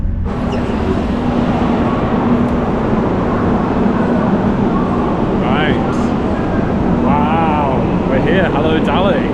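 Constant rumbling of a train rolling along rails to Dali, Yunnan, China, loud and steady inside the carriage, with brief voices surfacing toward the end.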